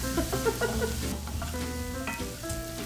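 Shallots sizzle in an oil-butter mixture with steak drippings, a steady close crackle and hiss with brief metallic stirring clinks from a utensil, and no talk over it.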